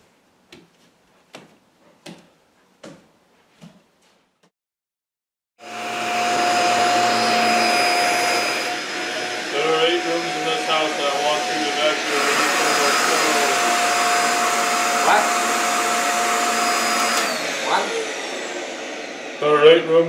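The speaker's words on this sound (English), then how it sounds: "I want you to vacuum each and every one of them thoroughly" A vacuum cleaner starts up after a few short knocks and runs loud and steady for about fifteen seconds, its droning whine shifting slightly in pitch as it works across the floor of a house.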